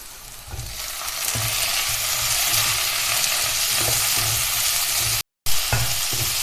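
Chopped medium tomatoes hiss and sizzle steadily in a hot pan with browned onions, with occasional spoon scrapes and stirring knocks, close and continuous, broken by a brief cut near the end.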